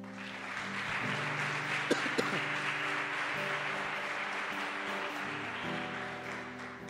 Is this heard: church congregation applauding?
yes